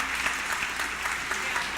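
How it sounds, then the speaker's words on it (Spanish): Lukewarm, thin applause from an audience at a spoken talk, a soft continuous patter of clapping at moderate distance with faint voices mixed in. "Qué aplauso tan aguado"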